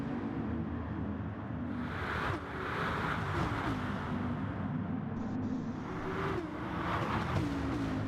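Race car engine in a Gran Turismo online league race, droning and revving with gear shifts, fairly loud and continuous, with whooshes as a car spins out into the wall; no talk over it.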